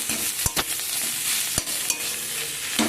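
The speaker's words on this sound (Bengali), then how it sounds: "এর মধ্যে আমি দিয়ে দেবো বেটে রাখা শাকটা আমি দিয়ে দিলাম দিয়ে সব কিছুকে মিশিয়ে নেবো" Ground cauliflower leaf paste being stirred and mixed in a frying pan: a continuous sizzle with a few sharp spatula scrapes and clicks against the pan, close and alone with no talk.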